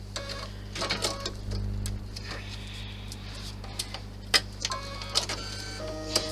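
An embroidery machine stitches an outline around a star shape on a key clutch. A mechanical whir with quick ticking bursts stops and starts, with sharper clacks near the end and no talking.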